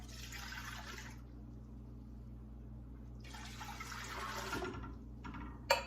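Watermelon juice, about six cups, is poured back into a stock pot in two separate bursts of splashing liquid, each a few seconds long, close by and fairly quiet, with a faint clink at the end.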